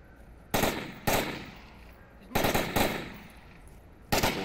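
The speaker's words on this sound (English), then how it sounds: "Keeping that suppressive fire on that corner just keeps the enemy from peeking it." Sustained suppressive gunfire in the Onward VR shooter during a competitive match, heard as four sharp bursts of automatic rifle fire separated by short pauses, moderately loud against a quiet background.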